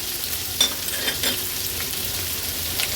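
Finely chopped onion lands in hot oil with cumin seeds and asafoetida, giving a steady close sizzle and a few soft stirring scrapes, with no one talking.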